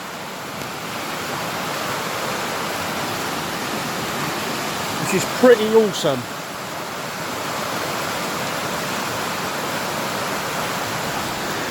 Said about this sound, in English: I'm just going to flip you around to see the intensity of that river.